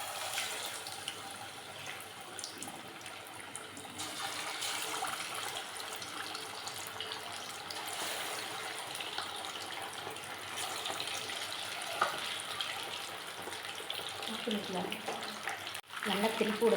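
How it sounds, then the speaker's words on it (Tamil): Chicken wings deep-frying in oil in a kadai on a stove, a steady broadband sizzle and bubbling that holds fairly level throughout, with a few sharper crackles near the end. "இப்போ அடுப்பில் நம்ம கடாயை வச்சு எண்ணெய் ஊற்றிக்கிட்டோங்க. இப்போ வந்து இந்த விங்ஸை வந்து நம்ம அதில் போட்டு எடுக்க வேண்டியது."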